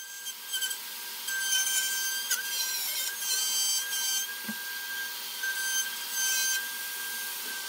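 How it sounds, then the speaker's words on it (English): A high, whining router flush-trims the wooden edges of a speaker cabinet in bursts, the pitch dipping as it bites, with short pauses between passes. "I'm going to flush trim with a router on both the top and bottom sides"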